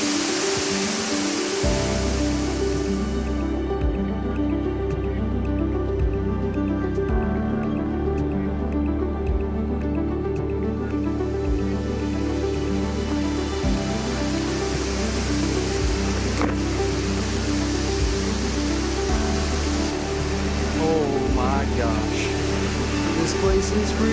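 Steady broadband rush of water from the upper part of a waterfall, continuous and fairly loud, blended with a prominent layer of tonal music throughout.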